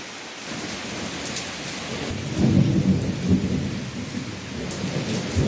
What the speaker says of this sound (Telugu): ప్యాట్ని ప్రాంతాల్లో వర్షం పడుతోంది